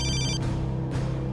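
A telephone rings with an electronic tone during a crime drama episode, a short burst of tone followed by a brief start of a second ring, over a steady low hum.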